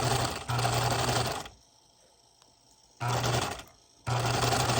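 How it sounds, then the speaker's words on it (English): Sewing machine stitching along a blanket edge, running in two loud steady bursts with a quiet pause between them as the fabric is repositioned. "One-handed sewing."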